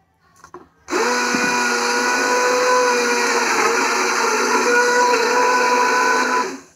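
Kitchen blender whirring through cooked broccoli soup, a loud steady motor drone that starts abruptly after a brief rattle and runs evenly to the end.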